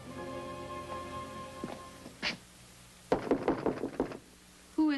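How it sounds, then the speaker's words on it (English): A quick run of about six firm knocks on a door in an alley near a club, close and distinct, following a brief thump and a faint tone in the background. "I knew I'd tapped the right door."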